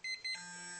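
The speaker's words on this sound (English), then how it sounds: "once that Clarisonic brush is done beeping, it'll turn itself off" Clarisonic facial cleansing brush beeping, two quick electronic beeps followed by a longer steady tone, faint and close.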